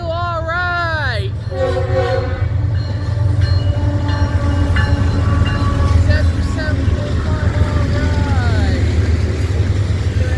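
BNSF freight locomotive 6592 passing on the Brookfield Subdivision, loud and close, with a long multi-tone horn blast at the start, another horn later and a continuous heavy rumble of rolling railcars throughout.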